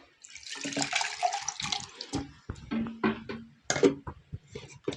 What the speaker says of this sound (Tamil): நமக்கு எவ்வளோ தண்ணி தேவையோ தண்ணியை ஊற்றிக்கிடுவோம்